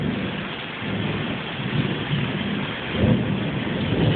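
A tropical thunderstorm pours steady, loud rain while deep rolls of thunder swell beneath it, with a heavier rumble building toward the end and no voices.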